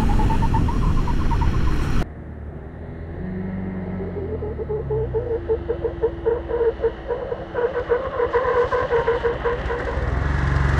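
A 2023 KTM RC 390 motorcycle, ridden in supermoto mode, blares loudly, then drops to a lower rumble with engine-braking pulses as it downshifts, and the revs climb again as it accelerates, heard up close without speech.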